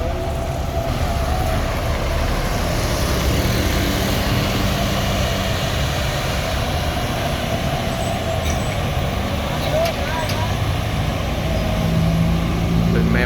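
Heavy traffic rumbles continuously on a busy evening road as a premium intercity bus passes among trucks and cars, with a brief air-brake hiss and people talking nearby.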